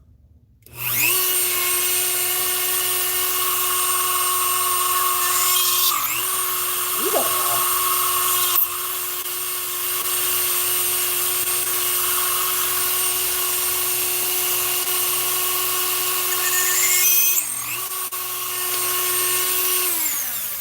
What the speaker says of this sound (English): this Dremel chuck thing is great, except for when it does this